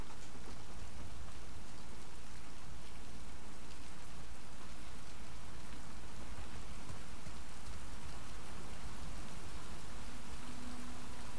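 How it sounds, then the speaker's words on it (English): Rain in the video game The Last of Us Part II, a dense, continuous downpour pattering on surfaces and on a car, steady and enveloping throughout with no voices. "the rain on that car made me nervous"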